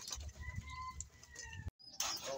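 Pigeons being fed cooing softly in short repeated calls, close by, with light rustling and a brief silent gap before the cooing resumes.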